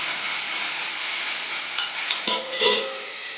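Avalakki (flattened rice) frying in a pan with fenugreek leaves, a steady bright sizzle running throughout while a spoon stirs, with a few louder scrapes and clinks near the end.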